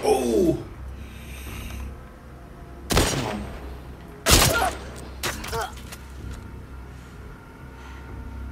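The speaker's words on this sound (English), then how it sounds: "If her gun's gone off and there's no one else running" Gunfire in The Last of Us Part II, with a couple of loud sharp shots cracking over a low game ambience, followed by smaller clattering hits and background voices.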